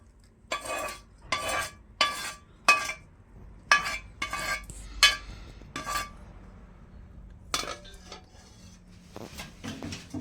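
A spoon scrapes and clanks around a pan as oil-coated food is stirred, several distinct bursts of clinking and scraping with short pauses between, close and moderately loud with no talking.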